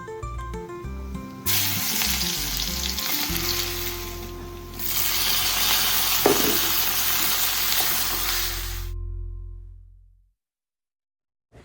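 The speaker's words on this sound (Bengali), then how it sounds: "এবার আমি এটাকে গরম তেলে দিয়ে দিব ফোড়ন হিসাবে" Crushed garlic dropped into hot oil as a tempering, a loud, dense sizzle that swells and holds for several seconds before cutting off abruptly, with a low steady hum underneath and no talking.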